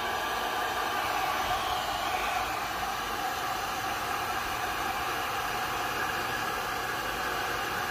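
Heat gun blowing on high fan and medium heat while shrinking iridescent cellophane onto a tumbler, a steady close whooshing roar that continues unbroken with no voices.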